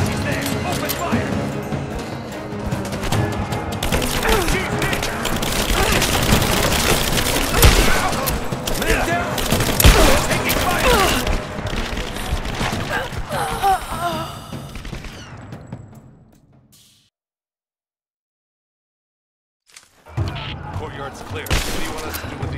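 Heavy gunfire fills a firefight in Rise of the Tomb Raider, dense bursts and booms running loud for about sixteen seconds while voices shout over it, then a short silence before more shots resume.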